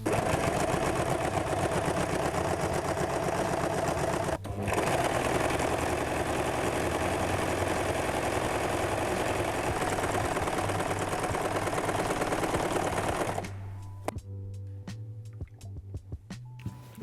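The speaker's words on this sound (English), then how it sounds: "I want to top stitch both sides so it's a bit more stable." A sewing machine top-stitches a tote bag steadily with a fast, even mechanical chatter, pausing briefly once, then stops, leaving a few quiet clicks and taps.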